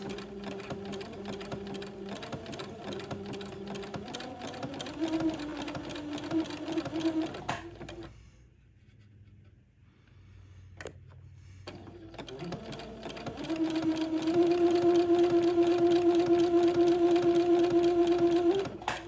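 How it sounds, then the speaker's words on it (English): A sewing machine zigzag-stitches entredot lace onto insertion lace for a baby gown, running in steady close whirring stretches that pause briefly mid-way, then resume faster and louder. "I'm going to sew entredot to both sides of the insertion lace."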